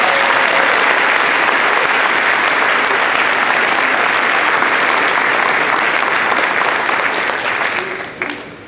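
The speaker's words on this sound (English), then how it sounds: "How about a round of applause?" Sustained applause from a large audience at a military ceremony honoring newly promoted senior NCOs, steady dense clapping throughout that tapers off near the end.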